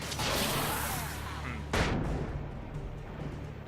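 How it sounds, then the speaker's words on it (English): Flashbang grenade going off in the video game Alan Wake: a sudden bright bang cuts through ongoing gunfire and combat noise, followed by a ringing, muffled tail. "Flashbang could have went better."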